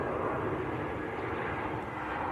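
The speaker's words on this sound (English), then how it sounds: "EasyJet from Copenhagen." An EasyJet Airbus A320 airliner arriving from Copenhagen at Manchester Airport gives a steady, loud broadband engine roar that holds evenly for a couple of seconds with no voices over it.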